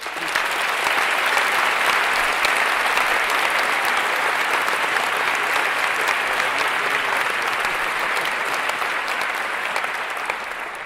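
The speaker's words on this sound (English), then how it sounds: "So a round of applause for everybody who helped to make Kai, to make the technical program, to make it happen here." Dense, sustained applause from a large conference audience at the CHI 2023 closing session, loud and steady throughout, tapering slightly at the end.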